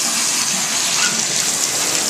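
Shower water gushes steadily from a bathroom fixture that appears long unused, a loud, continuous hiss of running water throughout with no talking.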